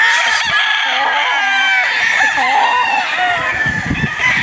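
Several gamecocks and stags crow and cluck together at a Filipino game farm, a dense overlapping chorus of calls, some near and loud, others farther off, continuous with no talking.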